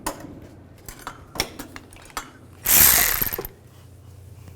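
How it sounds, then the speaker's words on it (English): Ratchet wrench with a 10mm socket removing bolts while working on a Nissan Xterra's driver-side variable valve timing solenoid; a short, loud burst of ratcheting clicks stands out between faint scattered taps and handling sounds. "Take this one out with a 10mm socket."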